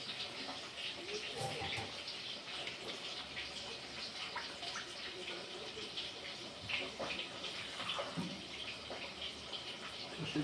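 Tap water runs steadily while something is rinsed clean during home cooking of fish curry with mustard and poppy seed, a continuous close splashing wash with faint background sounds and no clear talk.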